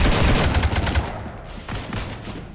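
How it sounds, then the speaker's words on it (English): Rapid automatic gunfire in Mass Effect 3 as a ship gets shot up, a loud, dense burst of shots up front that thins into scattered, lighter bursts toward the end. "You want to stop shooting up my ship?"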